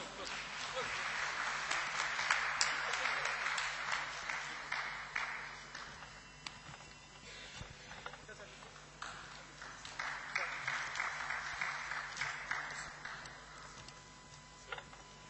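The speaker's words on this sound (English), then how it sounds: "Ladies and gentlemen, welcome him with a round of applause." Applause from the audience at an education and technology conference as a professor is welcomed, scattered clapping that comes in two swells and fades between them, with a faint steady hum underneath.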